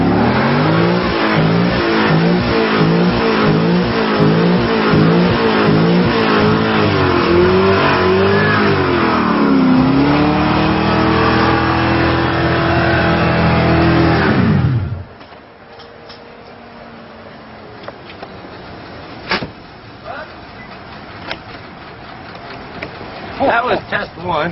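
A car engine revs hard and steadily during a smoky tire burnout, loud and close with rising and falling pitch, then cuts off abruptly midway, leaving quiet background with scattered small noises.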